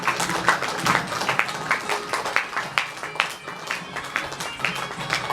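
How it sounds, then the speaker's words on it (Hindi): A welcoming audience applauds at a ceremony where a tilak is being applied to an honoured guest. The clapping is steady and continuous, with scattered sharper claps and a murmur of voices underneath. "तालियां बजती रहें जब तक स्वागत होता रहे"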